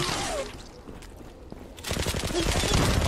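Video game gunfire erupts in a dense, loud burst of rapid shots, following a brief quieter moment with faint voices.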